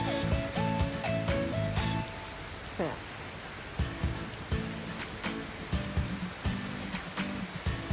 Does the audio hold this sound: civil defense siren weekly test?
no